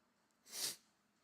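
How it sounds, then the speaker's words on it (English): A single short, breathy sneeze bursts out close and fairly loud against a quiet background. "I gotta sneeze."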